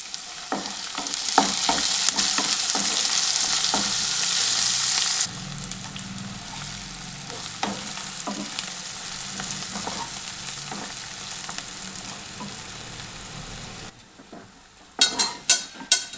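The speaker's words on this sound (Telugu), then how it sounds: "తగినంత పసుపు కూడా వేసుకొని అందులోనే కొంచెం చింతపండు వేసి దూరగా వేయించుకోవాలి" Bitter gourd fries in a pan with mustard seeds, turmeric and tamarind, giving a loud steady sizzle with scraping stirs. The frying quietens partway through, and sharp clinks and clatters sound near the end.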